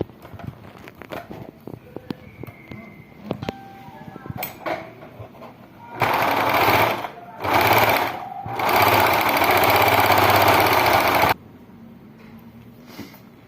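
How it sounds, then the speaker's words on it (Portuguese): After some light handling clicks, a sewing machine stitches the two sides of a felt bird, running loud and close in three steady bursts with brief pauses between, then stopping. "vou na máquina, passar a costura dos dois lados"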